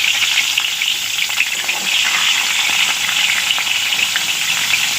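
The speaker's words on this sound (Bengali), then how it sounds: "পটলগুলো সব ভেজে নেব।" Salted pointed gourd (potol) pieces fry on low heat in refined white oil, giving a loud, steady, close-up sizzle that crackles continuously without a pause.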